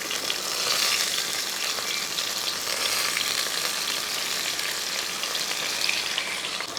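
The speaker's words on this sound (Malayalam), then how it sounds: "രണ്ട് തക്കാളി അരിഞ്ഞിട്ടതിന് ശേഷം ഒന്ന് ഇളക്കി കൊടുത്ത് ഒന്ന് വഴറ്റിയെടുക്കാം" Chopped tomatoes sauté in a hot pan with ginger and garlic, giving a continuous close sizzle with soft stirring scrapes. The sound is steady throughout, with no talking.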